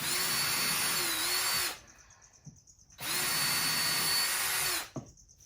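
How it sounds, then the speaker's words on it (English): A power drill whines in two sustained bursts of about two seconds each, drilling screw holes in wood for a rack, close and loud, with brief quiet gaps and small clicks between them. "I'm going to put 2 screws in each end and just re-drill them real quick."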